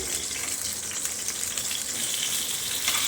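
Stuffed capsicum frying in a pan over a low flame, a steady close hiss of sizzling oil throughout with no talking.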